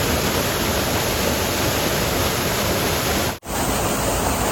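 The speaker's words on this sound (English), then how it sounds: "Got my waterfall fixed for the day." A waterfall in Tahquitz Canyon roars as a steady, full rushing wash, close and loud and unbroken except for one very brief dropout near the end.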